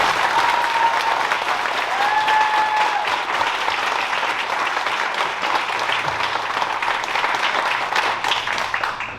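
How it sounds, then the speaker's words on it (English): A big round of applause for graduating students at a high school honor graduation ceremony, dense and loud sustained clapping from a full audience that holds steady throughout with a faint tone underneath. "I want to give all of these tremendous students one more big round of applause"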